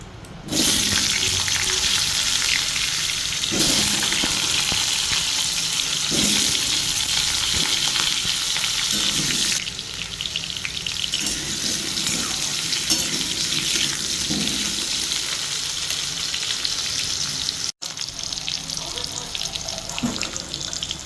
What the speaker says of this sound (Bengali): আলুটা আমি ভেজে নেব।